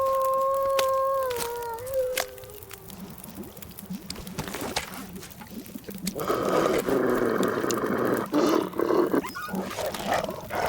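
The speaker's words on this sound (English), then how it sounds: "Oh god, 2 wolves nearby." Two wolves snarl and growl close by in The Long Dark at night, a rough, rumbling growl building and swelling toward the end over light skittering steps, after a pair of steady tonal whines fade out early on.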